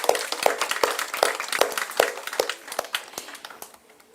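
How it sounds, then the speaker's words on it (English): An audience at a live satsang claps, sharp individual hand claps in a quick, fairly regular rhythm, close and distinct, thinning out toward the end. "We should give you a big round of applause."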